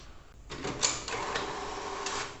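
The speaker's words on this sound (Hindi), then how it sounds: "ब्लैक एंड वाइट प्रिंट भी शुरू हो चुका है" An HP Deskjet 1112 inkjet printer prints a black and white page, a faint close mechanical whir with a few brief clicks and carriage sweeps, no talk.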